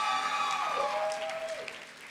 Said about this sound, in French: applaudir Rita Shah qui vous démarre sa finale là